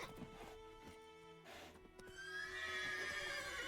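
Roach, the horse in the video game Witcher 3, whinnies loudly in a long rising neigh that swells over the second half, following some softer snorting and hoof clatter at the start.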